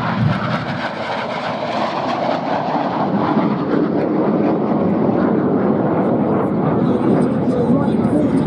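Red Arrows jet aircraft roaring overhead at the Duxford VE Day anniversary air show, a loud, continuous broadband jet rumble that holds steady throughout, with a commentator's voice over the public address.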